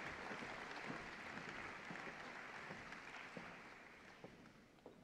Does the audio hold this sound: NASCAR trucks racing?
no